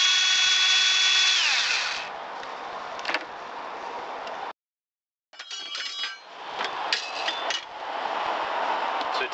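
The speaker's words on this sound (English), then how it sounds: "I'm using a 7 millimeter here to take these out" A powered 7 mm socket driver backs bolts out of a 1988 Pontiac Firebird's flip-up headlight assembly, whirring loudly and close in two long runs separated by a short silence, with clicks and rattles.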